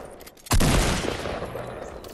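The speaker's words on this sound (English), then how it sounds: "Someone shooting at me." Gunshots in the video game Fortnite Battle Royale, a sudden loud burst of fire that keeps rattling on in a dense stream, with a quieter lead-in before it.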